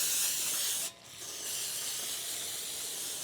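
A rinse is sprayed onto the front brake hub of a 2016 Chevrolet Suburban LT, a steady close hiss that cuts out briefly near the start and then resumes for the rest of the clip, with no talking.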